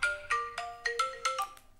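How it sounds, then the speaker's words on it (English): A mobile phone ringtone goes off during a felting demonstration, a repeating pattern of bright electronic tones in about seven quick pulses, moderately loud and with no voices over it. "Oh my gosh, that's my phone."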